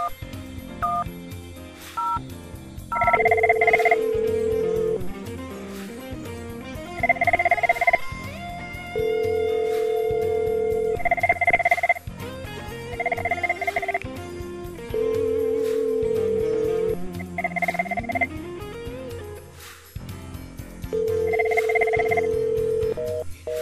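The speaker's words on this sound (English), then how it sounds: "Here we will make a phone call to the Hunt Pilot phone number that we created earlier" A phone call dialed to a Cisco Unified Communications Manager hunt pilot number: a brief flurry of keypad tones, then repeated steady ringback tones at regular intervals, clear and close with no talking.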